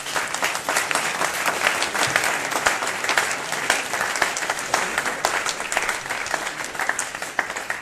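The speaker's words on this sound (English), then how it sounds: "An applause." Audience applause after a talk at a smart mobility tech meetup, a loud, sustained crowd clapping that holds steady throughout with light voices underneath.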